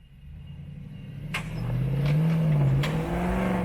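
A Nissan Y62 Patrol climbs an off-road slope, its engine starting low and quiet, then rising to a strained, louder drone as the revs climb and hold, with a few sharp knocks and scrapes mid-climb.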